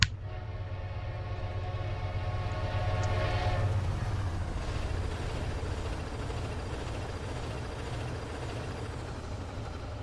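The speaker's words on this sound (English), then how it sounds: "There's our trains zooming through." Metro-North trains rush past in the Train Simulator game near Tarrytown, a loud rumbling pass with a horn-like tonal blast at the start that fades after a few seconds into steady rolling rail noise.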